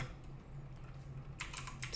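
Quiet keystrokes on a computer keyboard: faint background hum at first, then a few crisp, distinct key clicks tapped in an uneven rhythm toward the end.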